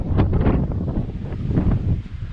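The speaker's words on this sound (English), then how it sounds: "Very windy." Gusty wind buffets the microphone in rough, uneven bursts, loud and close, with no talking.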